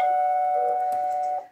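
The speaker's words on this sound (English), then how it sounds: "You don't need to push the bell." A doorbell rings once indoors during a Halloween trick-or-treat visit, a steady sustained electronic chime tone holding for over a second before cutting off, loud and close with no talk over it.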